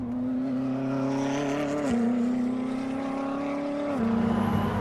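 A Koenigsegg Jesko hypercar accelerates hard from inside the cabin, its engine note climbing steadily, dropping briefly at two gear shifts and climbing again, loud and continuous throughout.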